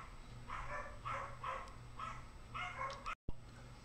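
Several dogs bark in short bursts at a moderate distance, a steady series of yaps with a brief dropout near the end, during a thunderstorm.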